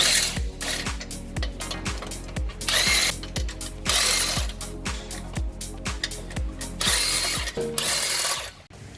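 An 18-volt cordless power tool works on a new 79 Series Landcruiser, ratcheting rapidly and loudly in close, repeated mechanical clicks with brief whirring bursts, continuing almost without pause until a sudden stop near the end.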